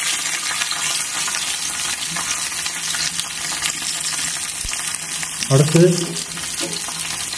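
Onions fry in a pan for a vallarai keerai chutney, giving a constant sizzle with a few stirring scrapes, and a brief spoken word rises over it partway through.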